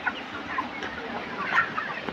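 Broiler chickens on a poultry farm in Bangladesh cluck continuously in a dense, close flock chorus, with no speech over it.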